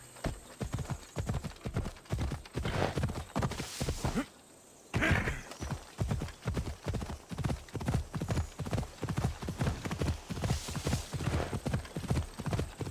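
A horse gallops in Assassin's Creed Odyssey, steady rapid hoofbeats drumming close and clear, broken by a brief pause midway, with a faint whinny and little else around.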